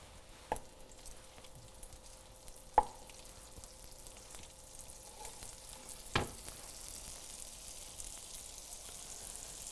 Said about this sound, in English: I'm gonna add a little bit more butter to the skillet